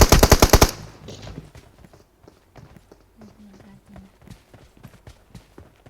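Rapid automatic gunfire in PUBG, a loud burst of closely spaced shots at the start, then a run of quieter, irregular footstep-like thuds and distant taps, with players talking over it.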